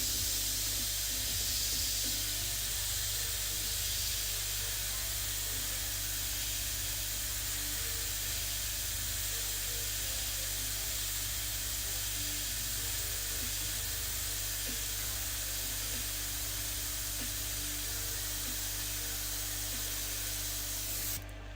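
An airbrush sprays paint in a steady, close, continuous hiss that holds unbroken for about twenty seconds before cutting off abruptly, with no talking.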